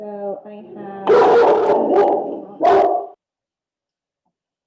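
A dog barks in a few loud, close bursts with some whining, right after someone speaks briefly, then falls silent.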